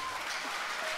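A brief, faint patter of audience applause comes from a crowd at a Georgian televised final.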